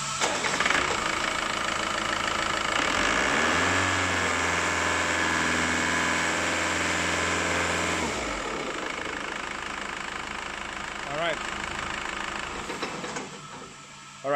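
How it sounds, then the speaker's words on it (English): An engine on a water brake dynamometer runs up to about 2500 RPM, holding a loud steady roar with a rising tone partway through, then settling to a lower, rougher drone for the final seconds. "the engine went up to about 2500 RPMs"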